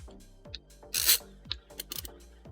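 Screws being driven back into a Dell Inspiron 5510 laptop with a small screwdriver, close and quiet, giving soft ratcheting clicks and short scraping rasps in an uneven rhythm.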